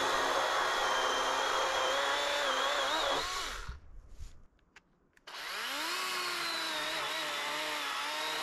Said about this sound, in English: This is the little 12-inch DeWalt electric chainsaw.